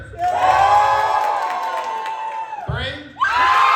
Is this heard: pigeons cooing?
no